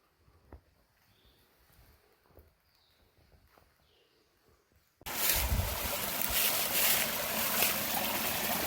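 A small, very cold mountain stream runs beside a lean-to campsite in the Adirondacks' St Regis Canoe Area, a broad steady wash of water that swells in suddenly and stays loud and close after faint quiet outdoor ambience.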